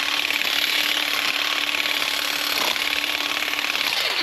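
A Bauer power tool from Harbor Freight cutting small branches, giving a loud, continuous buzzing rattle of the running motor and chain that holds steady throughout, with no talk.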